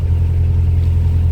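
Steady low engine drone of a car cruising at constant, moderate revs, a continuous close rumble with no talk.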